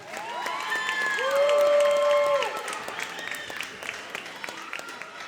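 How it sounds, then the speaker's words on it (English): A middle school concert audience gives a sustained round of applause for the eighth grade band. Dense clapping swells and then thins out, with scattered whoops and children shouting over it. "Give them one more round of applause."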